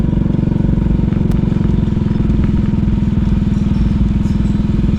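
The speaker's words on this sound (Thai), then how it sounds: "ได้ยินเสียงเครื่องไฟเครื่องเสียงดังฮึ่มๆอยู่" A generator or sound system hums loudly and steadily in a village beside a river in Laos, a dense low drone with a fine rapid pulsing throughout, near and unbroken.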